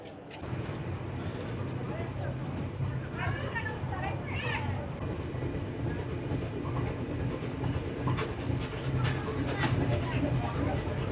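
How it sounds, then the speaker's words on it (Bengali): A Kolkata to Dhaka passenger train rumbles along steadily with rhythmic clattering of the wheels, while people talk and call out nearby over the constant motion. "ট্রেনের সিগন্যাল হয়ে গেছে, ট্রেন ছেড়েও দিয়েছে।"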